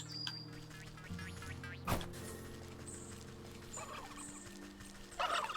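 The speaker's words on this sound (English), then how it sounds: "Wild turkeys." Wild turkeys in the video game Wytchwood, gobbling in a few short bursts at moderate volume over a low, steady background drone, with one sharp hit partway through.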